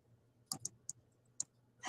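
Several sharp, light keyboard key clicks in a quiet room, sparse and irregular, close and faint with no voices.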